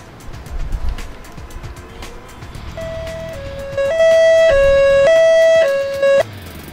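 An ambulance siren from the Emergency 4 game, Copenhagen mod, wails loud and close in a stepped two-tone pattern that starts partway in and cycles steadily to the end over faint background noise.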